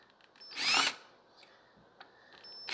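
A power drill driving a screw whirs in one short burst lasting under half a second, close by, with quiet surroundings and a few faint clicks afterward.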